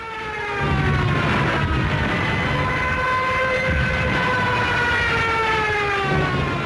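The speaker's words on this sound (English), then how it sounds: "fitted with a screaming siren" A Stuka dive bomber's siren screams loudly and continuously, its pitch sliding slowly downward over several seconds above a rough, roaring engine noise.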